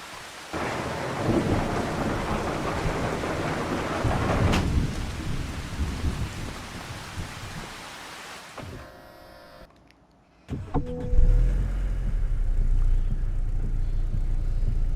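Rain and thunder in the video game Farming Simulator 25: steady rain hiss with a loud rolling thunderclap, then a brief drop to near silence before rain and a lower rumbling resume.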